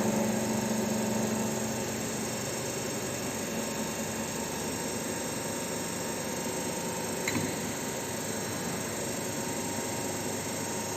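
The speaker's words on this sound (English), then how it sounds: "adjust the speed of the motor to its rated value, that is 1500 RPM." An electric motor on a lab bench running steadily at its rated 1500 RPM, a continuous broadband hum and whine with no change in pitch, close and even throughout, no talking.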